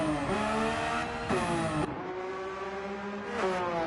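A Porsche race car in Gran Turismo pulls out of the pits, its engine revving up through several gear shifts in rising whines that drop and climb again. It is loud and close, with no speech.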